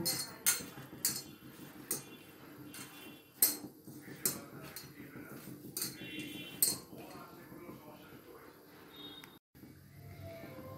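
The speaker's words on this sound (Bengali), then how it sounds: "দেবো একটু লবণ, দিয়ে আমি এটা ভালো করে মিশিয়ে নেব।" Light metallic clinks and taps of a spoon against a bowl as bhetki fish is mixed with salt, irregular and close, with soft background noise.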